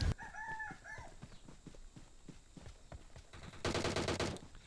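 Rapid gunfire from a PUBG battle, bursts of sharp shots in quick succession at moderate distance, closing with a louder dense burst.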